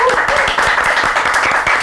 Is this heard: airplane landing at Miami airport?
no